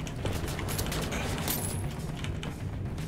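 Several pistol shots crack out in the video game Wolfenstein The New Order, scattered short bursts sitting over a busy, noisy in-game background.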